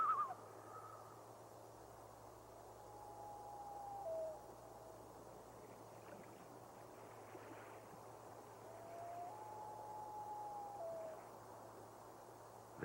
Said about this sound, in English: it is the voice of the loon, one of the most beautiful migratory birds